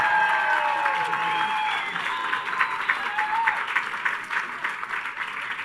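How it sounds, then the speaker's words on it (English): A commencement crowd gives a graduate a sustained round of applause with scattered cheers, the clapping dense and steady throughout. "could you give them a really loud round of applause?"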